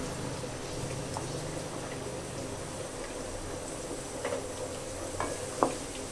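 Chopped onions and dried chilies fry in a pan for chicken kala bhuna, a continuous close hiss and crackle with a few soft stirring scrapes and a light clink of a utensil near the end, no talk.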